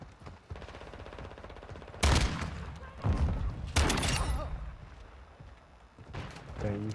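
Video game gunfire: a few sharp bursts of shots ring out loudly in quick succession, spaced over several seconds, with a player talking in between.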